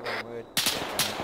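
Bursts of automatic machine gun fire from an MG in a military shooter game, sharp cracks arriving in two or three quick clusters, loud and close against the surrounding game ambience.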